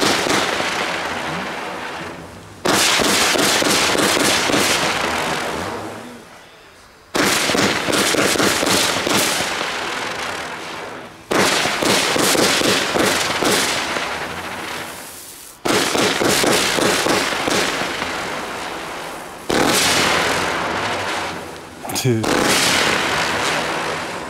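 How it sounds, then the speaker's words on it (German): A Röder Feuerwerk Chaos-Kometen firework battery fires turning comets in five or six loud, roaring crackling volleys, each lasting several seconds before fading and restarting abruptly, heard outdoors at close range. "Als nächstes haben wir die Chaos-Kometen von Röder Feuerwerk."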